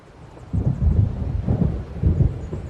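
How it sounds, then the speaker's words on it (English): Thunder rolls through a storm in the video game Alan Wake Remastered: three deep, rumbling swells come about every second, heavy and close, with a faint rain hiss beneath and no voices. "It seems there's a storm coming."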